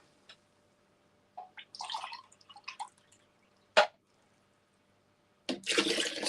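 Water tipped from a measuring cup into oats comes in a few short separate pours and splashes with quiet gaps between them, the last one longer and fuller.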